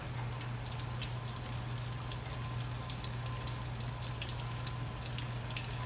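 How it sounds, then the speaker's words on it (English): Steady, quiet sizzling and crackling of red snapper frying in oil, with a low hum underneath and no voices. "Now you can see them frying."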